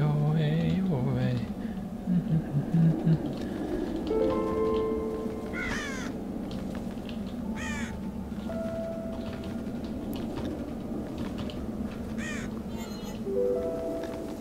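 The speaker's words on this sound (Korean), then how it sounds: "까마귀들이 또 많네. 카우, 카우!" Crows caw repeatedly in the Child of Light video game, sharp scattered calls over a steady game soundtrack hum, with a voice talking at the start.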